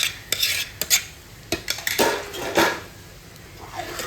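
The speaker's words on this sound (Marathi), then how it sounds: "मस्तपैकी राईस मिक्स होताना दिसते तुम्हाला" Rice being stirred into a dried prawn biryani masala with a metal spoon, giving a series of sharp scrapes and clinks against the pot, close and uneven, with no talking.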